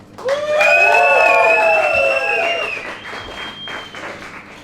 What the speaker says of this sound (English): Please join me in welcoming Caroline.